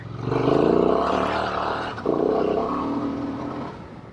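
A Honda Transalp motorcycle accelerating off-road in Idaho, its loud, close engine roaring steadily, then dipping briefly for a gear change before pulling hard again and fading slightly at the end.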